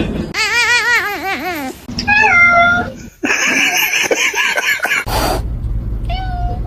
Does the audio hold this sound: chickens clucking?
no